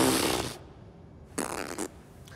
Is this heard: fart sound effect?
yes